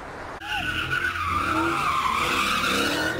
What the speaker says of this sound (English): You can see several cars spinning out of control doing donuts on the lodge Saturday night.